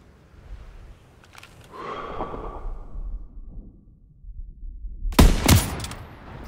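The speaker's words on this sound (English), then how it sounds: "Great shooting, Daniels." Gunfire in the World War II shooter Call of Duty WWII during the Battle of the Bulge, with scattered shots and rumbling combat early on and a loud, sharp burst of close rapid fire near the end.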